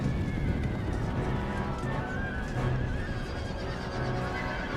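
Horses whinny and neigh over pounding hooves amid battle noise in Empire: Total War, a dense, continuous din of cavalry with several overlapping whinnies.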